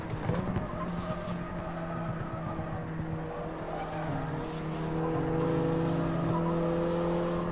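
A front-wheel-drive Mini race car runs on a track, its engine a steady close droning note that holds through the run and rises slightly in pitch and loudness near the end, with no voices.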